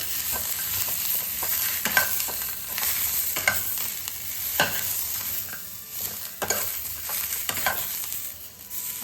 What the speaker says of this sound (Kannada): ಹಿಂಗೆ ಹೊಳಿಸಿ ಹೊಳಿಸಿ ಚೆನ್ನಾಗಿ ಹುರ್ಕೊಬೇಕು ನೋಡಿ